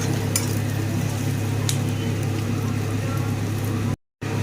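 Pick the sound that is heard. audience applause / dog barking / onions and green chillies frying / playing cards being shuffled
onions and green chillies frying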